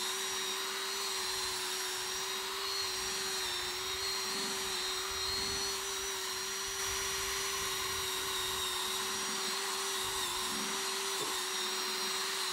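A power buffer polishes a hazy headlight lens, giving a steady, unbroken electric whine at constant speed with a faint rumble underneath, running alone for the whole stretch.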